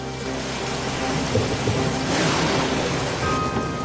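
Heavy rain pours steadily while thunder rumbles through the downpour, a continuous loud storm with no voices.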